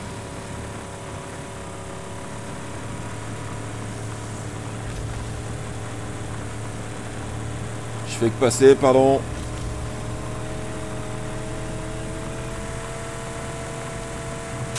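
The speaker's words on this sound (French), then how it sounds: "Le bruit du moteur." A vehicle engine in the video game Rage 2 drones as a steady, low, humming rumble throughout. Someone speaks briefly partway through over the engine.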